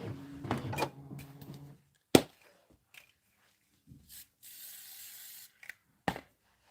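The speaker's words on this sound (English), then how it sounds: "I'm going to give it a little shot of spray too." Short spray bursts onto fabric before fusing in quilting work, a few sharp hissing puffs between quiet gaps and faint handling noises, close by.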